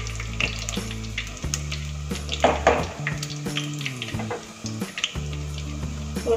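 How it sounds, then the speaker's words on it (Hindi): Handi kadhi pakoras frying in hot oil over a high-to-medium flame, a steady close sizzle with occasional stirring and utensil clinks. "हाई टू मीडियम फ्लेम पे ही इसे तलें।"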